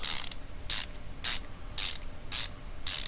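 Repeated ratchet clicks from tightening six bolts in Car Mechanic Simulator 2015, with about six crisp, evenly spaced bursts close up and no talking.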